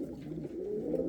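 Pouter pigeons in a loft coo in soft, low, continuous rolling murmurs, close by and steady, with no voices.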